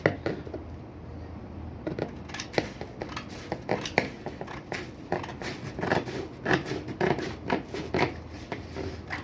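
Bristol board being cut with scissors, a run of close, crisp snips and paper rustles in irregular rhythm, fairly faint, with no talk.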